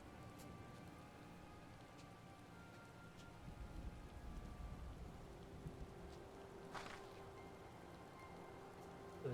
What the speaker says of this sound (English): And now it's raining too.